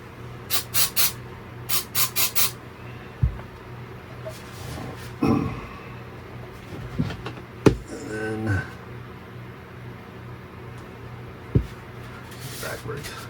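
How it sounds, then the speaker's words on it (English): Short hissing spray bursts aimed into a hole in a 3D-printed part for a 26-inch Super Mario figure, fired in two quick clusters, followed by scattered handling clatter and a voice talking. "And I'm going to spray in the hole."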